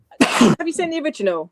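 A single sharp sneeze, loud and close, bursts out at the start, followed at once by a person speaking.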